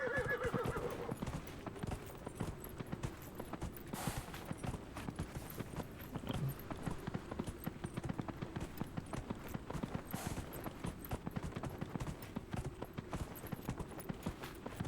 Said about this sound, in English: We're in the desert on a horse with no name